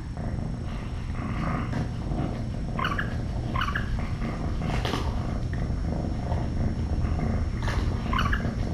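A continuous low rumbling purr from a kitten, close and steady, with faint higher chirps scattered over it.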